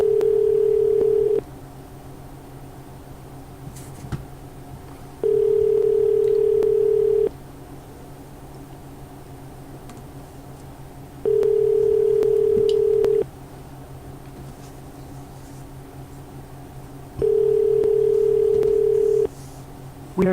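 A telephone ringback tone sounds on an outgoing call, four loud steady two-second rings spaced evenly over a low background hum.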